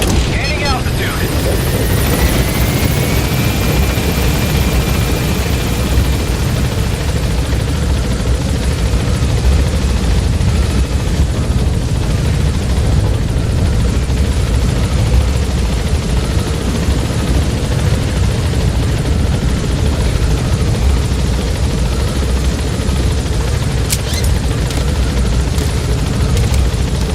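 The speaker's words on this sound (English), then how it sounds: "Gaining altitude." A helicopter in Metal Gear Solid 5: The Phantom Pain climbs steadily as its loud, continuous rotor roar fills the scene at close range. The roar runs unbroken throughout with a few faint higher tones over it.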